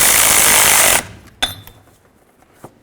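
A power tool runs on the neutral safety switch mounting nut of a 1998-2011 Ford Ranger: a loud, steady whirring burst for about a second, then stops, followed by a couple of sharp metallic clanks.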